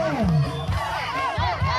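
A crowd of spectators cheers at a students' sack race in Laos, with overlapping shouts, whoops and rising calls from many voices, loud and close and continuous throughout.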